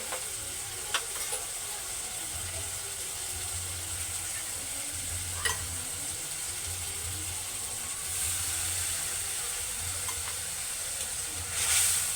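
Ground cumin and coriander paste frying in a pan with a little water poured in, giving a steady soft sizzle with occasional stirring clinks and scrapes, faint and continuous.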